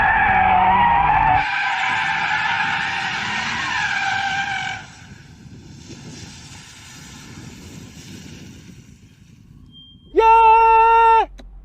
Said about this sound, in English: I'm in an Audi RS3, dum dum, and I'm trying to drift it carefully,